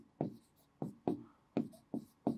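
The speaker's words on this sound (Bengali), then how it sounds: "দ্বিতীয়ত আমরা এই সাইডে লিখি" A pen writing on paper makes six short, scratchy strokes in an uneven rhythm, close and fairly loud, with quiet gaps between them and no voices.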